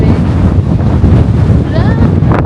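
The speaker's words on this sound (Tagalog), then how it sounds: "ang lakas ng hangin, no? Grabe." Heavy wind buffeting the microphone with loud, rumbling gusts throughout on a sunny day in Taichung, Taiwan; a faint voice can be heard briefly beneath it.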